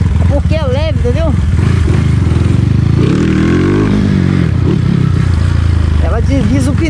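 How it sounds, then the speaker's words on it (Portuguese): A light prototype motorcycle accelerates on its first lap, its engine note rising and wavering with the rear tyre slipping, heard steadily under continuous nearby talk. "Ela desliza o pneu na hora que acelera."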